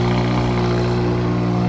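A 2024 Subaru WRX VB TR with a PLM turbo, headers, mid-pipe, downpipe/J-pipe and axle-back exhaust runs on a dyno, a loud, steady droning engine note held at constant revs.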